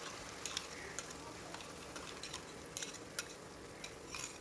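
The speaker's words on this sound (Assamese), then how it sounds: "এই গোটেই পেষ্টখিনি অলপ সময় ভাজিম" Spice paste frying in a pan with butter and cumin, a soft continuous sizzle broken by scattered light ticks and scrapes of stirring, fairly quiet and close, with no talking.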